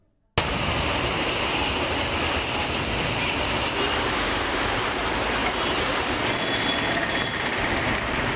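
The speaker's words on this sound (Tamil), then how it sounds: "தென்காசி மாவட்டம் சங்கரன் கோவில் மற்றும் அதன் சுற்றுவட்டார பகுதிகளில் 1 மணி நேரத்திற்கு மேலாக கனமழை கொட்டியது" Heavy rain pours down around Sankarankovil in Tenkasi district, a dense, steady roar of downpour that starts abruptly and holds at the same loud level throughout.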